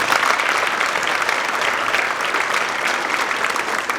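An audience applauds at a school band winter concert with steady, full clapping that stays loud and continuous throughout, no voices on top.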